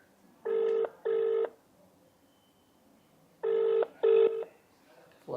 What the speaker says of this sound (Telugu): రింగ్ అవుతుంది లిఫ్ట్ చేస్తున్నారు